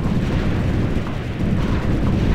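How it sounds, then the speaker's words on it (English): Explosions and gunfire from the real-time strategy video game Ground Control II roar as a dense, continuous barrage of booms and blasts, loud and sustained throughout with no voices. "We're under heavy fire."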